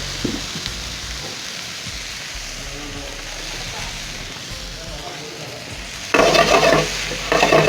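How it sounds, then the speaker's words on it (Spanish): Bell pepper and onion sautéing in a pan for a rice dish give a steady sizzle and stirring scrape, growing louder and brighter near the end as fresh pieces hit the hot oil. "y agregamos el pimentón, el pimentón, y volvemos a saltear."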